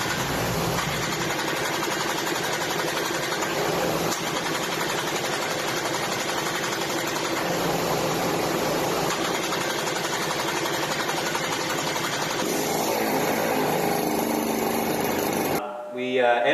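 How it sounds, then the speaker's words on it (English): A two-stroke kart engine screams flat out in a full dyno pull, a dense, loud, buzzing roar that holds steady for about fifteen seconds, then cuts off abruptly. "this is going to be a full dyno pull at full tilt, full chat,"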